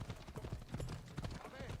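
Horse hooves clip-clop in a rapid, steady gallop rhythm in Assassin's Creed Odyssey, close and moderately loud, with someone talking over them.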